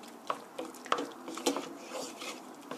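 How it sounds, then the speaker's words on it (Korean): A spoon stirs broccoli cream sauce in a pan, giving soft, uneven scrapes and a few light clinks against the metal over a few quiet seconds. "이렇게 고루 간이 되셨으면 골고루 저어주시고요"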